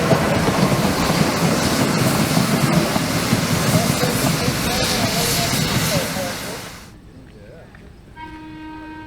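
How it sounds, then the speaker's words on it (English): Trolley on its return trip at the Illinois Railway Museum, a steady rumbling roll of wheels on track that fades after about seven seconds, followed by a short tonal horn-like sound near the end, with a narrator's voice over it. "here comes the trolley on its return trip"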